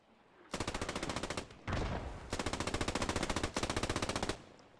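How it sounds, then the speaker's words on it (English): German machine gun in the game Post Scriptum firing three long rapid bursts, loud and close, each a fast even stutter of shots separated by short pauses, with no talk. "That's a German MG, I believe. A German MG."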